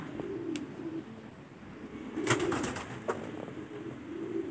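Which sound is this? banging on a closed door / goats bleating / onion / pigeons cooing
pigeons cooing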